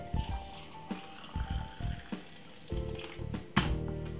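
Hot water pouring into a cup over chopped ginger and a thick piece of lemon for Jamaican ginger lemon tea, heard as a close, intermittent liquid splash and trickle in several short bursts.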